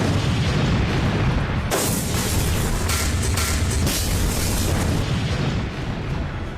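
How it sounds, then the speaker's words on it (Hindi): Artillery guns fire among snowbound mountains in the 1999 Kargil war, a dense, loud rumble of heavy booms with sharp blasts clustered in the middle, no voices. "तोपें गरजने लगी।"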